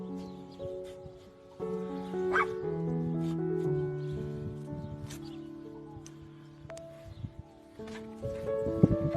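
A rescued dog revived by CPR yips, whimpers and gives short barks, fairly close and loud, over a cluttered background of other noise throughout.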